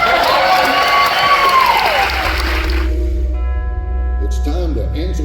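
A crowd at Silver Dollar City theme park breaks into loud applause and cheering during a 2024 announcement, dense clapping and shouts at first, then fading as music and a voice take over.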